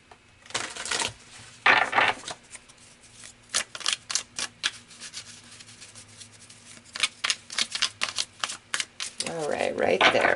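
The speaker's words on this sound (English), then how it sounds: "So let's pull some more cards." Tarot cards being shuffled at close range during a spiritual reading, with a series of soft papery riffles and flicks in uneven bursts and a voice speaking briefly near the end.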